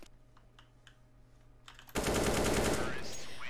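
Automatic gunfire from a shooter video game erupts suddenly about halfway through, a loud sustained burst of rapid shots after a quieter stretch with faint clicks and low hum.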